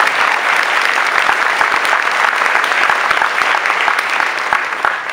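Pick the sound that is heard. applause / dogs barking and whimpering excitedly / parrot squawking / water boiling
applause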